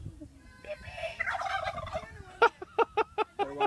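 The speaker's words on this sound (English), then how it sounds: "Turkeys. Wild turkeys." Wild turkeys at a local farm gobbling in a run of rapid, rhythmic bursts that grow louder toward the end, heard fairly close with little else around.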